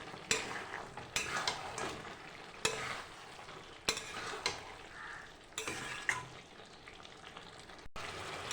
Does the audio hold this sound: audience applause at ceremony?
no